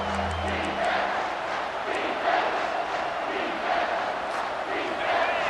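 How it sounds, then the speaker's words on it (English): A packed stadium crowd roars steadily at a college football game between North Texas and Ohio State, a loud, sustained wash of massed voices with surging swells and a few sharp whistles over the top. "this crowd is tearing the lid off this place."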